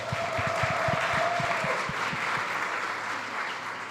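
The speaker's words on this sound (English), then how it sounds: "Give her a round of applause, please." Audience applause at a food summit panel, sustained clapping from a room of people with a few nearer, sharper claps up front early on, easing slightly toward the end.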